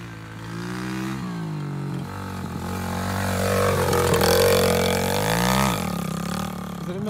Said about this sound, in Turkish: Kuzenim de daha yeni yeni motor sürüyor